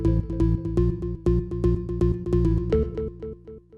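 A synth bass preset plays a punchy repeating bass line with strong low notes, a bright attack on each hit, and steady rhythmic chords above, loud and alone.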